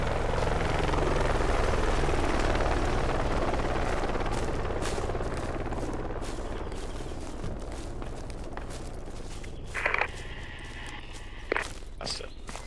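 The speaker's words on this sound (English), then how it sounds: "Hustle chopper. Heli coming in, yep." Helicopter in the Project Reality military game, a loud steady rotor roar that slowly fades as it moves, with footsteps and a few short thuds near the end.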